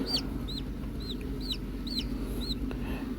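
A newly hatched chick peeps repeatedly in high, rising chirps, about two per second, close by over a low background hum.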